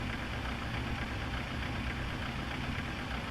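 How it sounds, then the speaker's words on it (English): A steady, dense jet engine roar of a Boeing 737-800 spooling up in a flight simulator holds at an even level throughout, broadband and unchanging, with no voices. "Just waiting for this engine to spool up as well."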